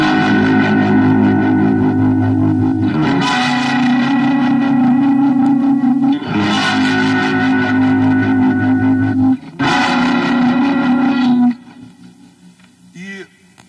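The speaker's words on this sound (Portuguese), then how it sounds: "Som com trêmulo." An electric guitar through a tremolo effect sounds loud, sustained chords that swell and pulse, repeating three times before a quieter tail. The tone comes from a vintage guitar workshop setting.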